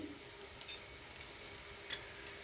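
Chili, coriander, pepper, masala and turmeric powders sizzle softly as they are sautéed in a pan for Kerala-style mushroom biryani, with a couple of light stirring clinks against the pan.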